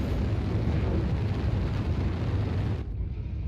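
A missile slams into a mech in MechWarrior Online, producing a loud, dense roaring explosion that rumbles steadily before cutting off abruptly near the end, with no speech.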